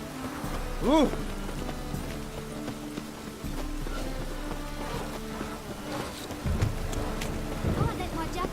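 Constant downpour from a storm in The Witcher 3 washes evenly across the scene, joined by occasional horse hoof clops and a short vocal sound over the rain.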